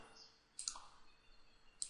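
A computer mouse gives a couple of faint, sharp clicks spaced about a second apart during design work with snap and grid, close and isolated against a quiet background.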